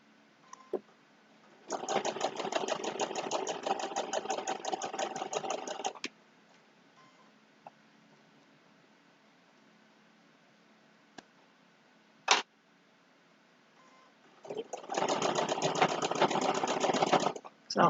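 A sewing machine stitching a two-fabric potholder runs in two rapid, steady bursts with a quiet gap and a few soft clicks between them.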